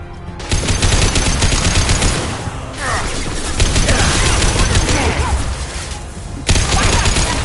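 Heavy sustained gunfire in the video game Mass Effect 2, loud dense bursts of automatic shots filling the whole stretch with short lulls between volleys.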